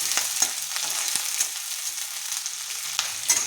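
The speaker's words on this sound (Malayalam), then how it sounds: "ഉള്ളിയും പച്ചമുളകും വഴണ്ടു." Onion and green chillies sautéing in hot oil for an Andhra-style chilli chicken, a steady close sizzle with occasional sharper crackles and spatters across the whole stretch, with no talking.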